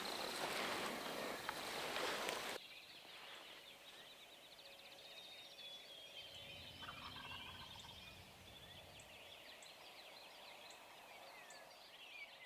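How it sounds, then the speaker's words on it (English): Wild turkeys gobble at a distance on a Tennessee spring hunt, several faint rattling calls sounding over quiet outdoor background after a louder opening rush of wind or handling noise, with no speech. "there's birds gobbling where they're supposed to be"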